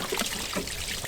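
Collected water trickling and splashing out through a broken, cracked valve, a brief, faint burbling dribble with no one speaking.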